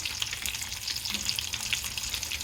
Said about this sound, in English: Just want to bring that back up to the boil.